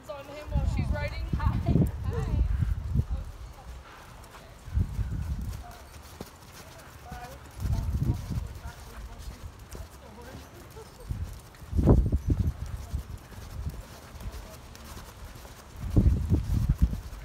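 A horse walking at a rodeo, with hooves clip-clopping in repeated bursts of steady close steps while people talk and laugh over them.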